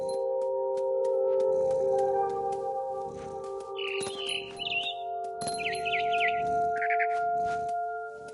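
A small bird chirps a few short, bright calls in What Remains of Edith Finch, heard over a steady tonal game ambience with soft rustling in the background.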